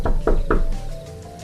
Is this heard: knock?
yes